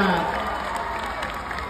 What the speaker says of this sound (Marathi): इतक्यासाठी एकदा जोरदार टाळ्या होऊन जाऊ देत